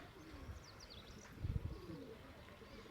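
A domestic pigeon coos faintly in a low, rumbling burst near the middle, set in quiet background noise with a few thin higher chirps.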